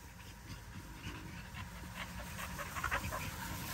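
Cattle dogs panting and shuffling close by, with quick breathy huffs and some scuffling movement as they play, the activity picking up toward the end.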